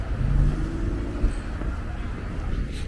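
Cars pass along a street in Long Island City, Queens, New York, giving a low rumble of engines and tires that swells and fades at close range. A voice can be heard faintly under the traffic.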